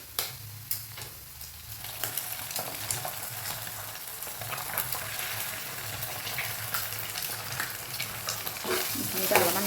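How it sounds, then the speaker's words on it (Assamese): Two eggs frying in a pan with onion and turmeric while making a night jasmine flower dish, giving a soft, steady sizzle with a few stirring clicks early on, and no talking. "ডিম দুটা দি অকণমান ভাজি ল'ম"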